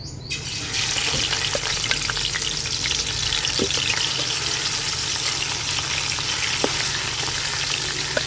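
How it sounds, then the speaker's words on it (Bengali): Spice-coated katla fish frying in hot oil, a loud, steady sizzle and crackle with a few sharper pops that runs continuously from about the first second to the end, with no voices. "এই তেলে মাছ ভাজবো"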